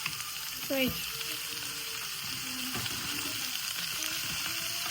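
Potato and bottle gourd peel frying in a pan, a steady sizzle with scraping and clinking of a stirring spoon, occasional knocks against the pan, moderately close.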